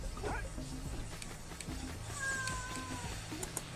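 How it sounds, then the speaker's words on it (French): A pet cat gives one drawn-out, falling meow indoors in a bedroom, heard over soft video game music with faint background rustling. "mon chat qui vient de monter avec ma copine"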